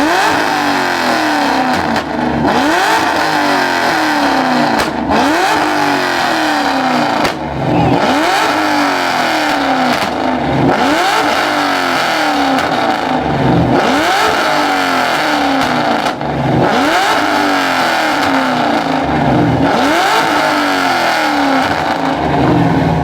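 Car engines at a car meet rev battle, revving hard in repeated surges roughly every two to three seconds, loud and close, each burst rising and falling, with no talking.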